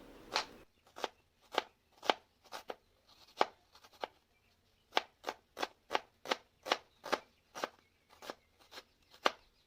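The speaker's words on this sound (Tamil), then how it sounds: "இந்த வெங்காயத்தை நல்லா பெருசாக கட் பண்ணிக்கிறேன்" A knife chops an onion into large pieces on a cutting board, sharp regular thunks coming close and clear in a steady rhythm with a short pause partway through, no talking.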